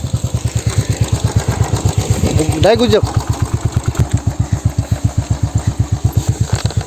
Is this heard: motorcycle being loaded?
yes